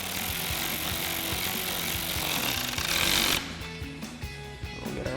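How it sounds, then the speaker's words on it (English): A ratchet with a T40 Torx bit tightens bolts on a Jeep Wrangler JL soft top, rapid clicking strokes repeating steadily and close, then a quieter run of clicks after a pause. "We'll go ahead and use our T40 Torx bit again on our ratchet and tighten down these upper two."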